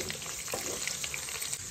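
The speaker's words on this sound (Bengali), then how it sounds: "তেল গরম হয়ে গেছে, এখানে আমি আলুগুলো দিয়ে দেবো।" Sliced potatoes fry in a pan of hot oil with a steady, close crackling sizzle and small bubbling pops throughout.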